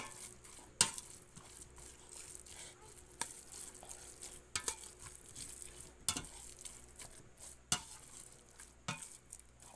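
A small ladle stirs an oyster mushroom and ground pork filling for lumpia in a pan. Soft clinks and scrapes repeat irregularly over a faint low sizzle, close and fairly quiet, with no talking.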